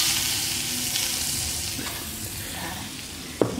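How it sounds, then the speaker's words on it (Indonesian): Oil added to chili sambal for ayam geprek sizzles in a steady, close, hissing fry that eases off slightly, ending with a sharp clink of a utensil. "ini sambelnya mau aku kasih minyak sedikit biar lebih gurih"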